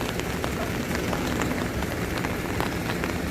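Heavy rain falls in Chennai, a dense, continuous wash of drops striking surfaces nearby, steady and fairly loud with no voices over it.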